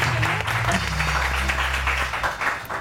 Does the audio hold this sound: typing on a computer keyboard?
no